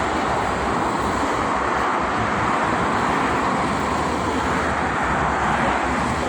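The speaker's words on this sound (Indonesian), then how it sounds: "Untuk arus lalu lintas tol Jakarta Cikampek pada kesempatan pagi ini sangat lancar sekali" Steady roar of traffic on the Jakarta-Cikampek toll road in the morning, a continuous broadband wash of passing cars with wind noise, loud and unbroken throughout.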